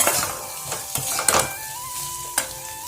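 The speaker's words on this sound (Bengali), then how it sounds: "এখানে তরকারিটা করব বলে কড়াইয়ের মধ্যে মশলাটাকে ভালো করে আমি কষিয়ে নিচ্ছি" Spice masala of onion, ginger, garlic and ground cumin is stir-fried in a kadai for a cauliflower and soybean curry, a soft sizzle broken by several sharp scrapes and clinks of a spoon against the pan, close and fairly quiet.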